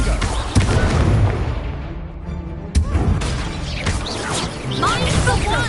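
A Confringo spell explosion in the game Hogwarts Legacy, a sharp fiery blast with a booming crash that sits within loud, dense combat sound and a few shouted voices.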